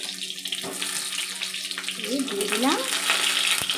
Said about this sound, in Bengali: এবার আমি এর মধ্যে একে একে কেটে রাখা পটলের টুকরোগুলো এর মধ্যে দিয়ে দিলাম